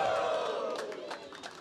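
Crowd cheering and shouting at a FlipTop rap battle, a dense roar of many voices that swells with sharp whoops and yells before easing slightly.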